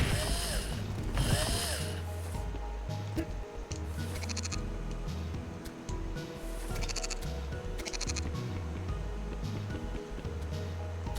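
Cartoonish goat bleats from the video game Corn Kidz 64, repeated several times over steady game music and mechanical ratcheting clicks, fairly loud and close.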